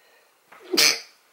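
One quick sneeze, close and fairly loud, preceded by a short intake of breath, in an otherwise quiet room.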